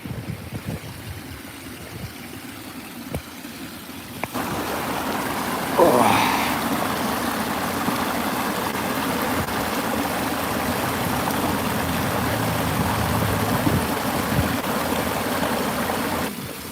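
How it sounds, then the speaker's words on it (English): Water springs up and spills down the drops of a garden pond waterfall, a steady close rushing flow that grows fuller partway through, with a voice talking faintly at times. "the water just kind of springs up and flows down the waterfall"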